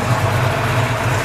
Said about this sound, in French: C'est vrai qu'elle fait un joli bruit, la ligne Magnaflow, c'est vraiment un son particulier